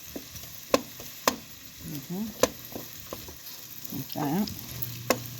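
Mushrooms sautéing in a pan for a wild turkey gravy give a steady background sizzle, broken by sharp clacks and scraping stirs of a utensil against the pan, with a short spoken phrase near the end.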